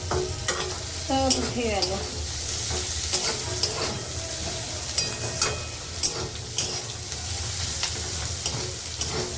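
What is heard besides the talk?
frying crushed garlic and tomato in oil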